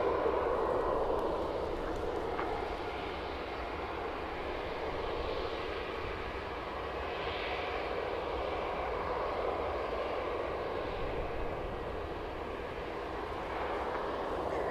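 An EasyJet airliner at Manchester Airport bound for Amsterdam gives off a steady distant jet engine hum and rumble, faint and even across the whole stretch with no voices.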